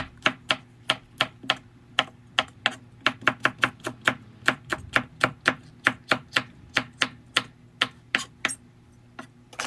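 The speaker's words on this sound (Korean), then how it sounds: "홍고추 한 개를 반으로 잘라" A knife cuts a red chili pepper into strips on a cutting board, making a steady series of crisp, evenly spaced chopping taps, close and clear, with no voices.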